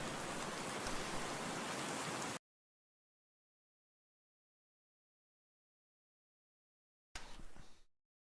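Steady rain ambience in the F1 24 racing game: a dense, even hiss for a couple of seconds, then silence, then a brief renewed burst that fades out.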